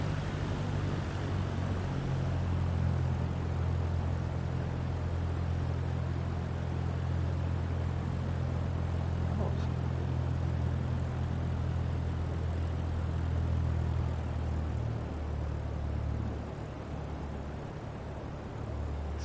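A propeller airplane engine in Microsoft Flight Simulator on PS5 gives a steady, even drone that holds for the full stretch with no voices and only a slight easing near the end.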